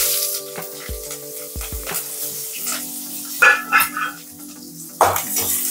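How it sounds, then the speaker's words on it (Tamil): Fennel seeds and shallots sizzling in hot oil for a Tamil-style egg gravy, a soft steady frying hiss broken by a few sharp stirring clatters and scrapes. "சோம்பு போட்டு தாளிச்சு."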